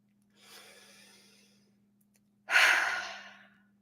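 Two breaths during a guided relaxation exercise: a soft, drawn-out inhale, a pause, then a louder, fuller exhale like a sigh, close and clear over a low steady hum.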